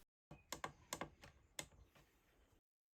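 A 1983 Mattel Aquarius computer keyboard takes a quick burst of close, quiet keystrokes in an irregular rhythm, then falls silent.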